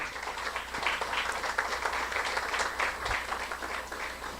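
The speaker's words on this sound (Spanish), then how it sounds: "Un fuerte aplauso para el maestro" Applause from the audience at an anthropology conference, a steady wash of clapping at moderate volume lasting several seconds without a clear break.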